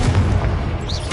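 Confringo spell blasts going off in Hogwarts Legacy, a dense run of booming low-end bursts that hit one after another, loud and close, with no break between them.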